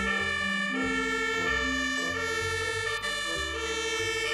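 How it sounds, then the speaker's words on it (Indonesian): A toy fire rescue truck sounds its siren, a loud, steady electronic wail that alternates between tones without pause and is heard alone, with no talking. "Mobil pemadam kebakaran atau fire rescue."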